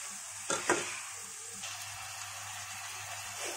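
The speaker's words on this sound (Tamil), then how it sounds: "சேர்த்துட்டு வெங்காயம் வந்து நல்லா வதக்கிக்கலாம்" Finely chopped onions sautéing in a pan for kathirikkai kulambu, a low steady sizzle with a couple of sharp spatula scrapes early on, fairly faint throughout.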